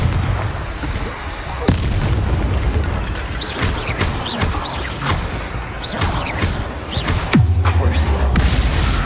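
Confringo blasting spells explode in a loud Hogwarts Legacy battle, with sharp bursts and booms repeating every couple of seconds over a dense wash of game noise and rumbling.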